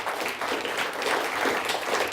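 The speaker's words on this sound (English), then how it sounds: "Nice round of applause for Sacred Heart Academy of Mount Pleasant." An audience applauds a quiz bowl team at a championship game, a steady wash of clapping that stays even and fairly loud for a couple of seconds.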